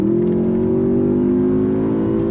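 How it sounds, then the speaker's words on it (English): A 2023 Audi S8's twin-turbo V8 holds a loud, steady engine drone from inside the car, with a sustained low tone that rises slightly as it accelerates, and no talk over it. "Love the sound of that twin turbo V8."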